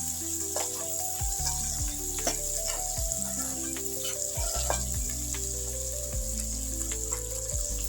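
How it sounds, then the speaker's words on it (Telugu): Potatoes with green chillies sizzle steadily in hot oil in a pan for moong dal khichdi, a close continuous crackling fry with occasional stirring scrapes and no talking. "ఆలు, ఇది ఒక 2 నిమిషాలు ఫ్రై చేస్తాం."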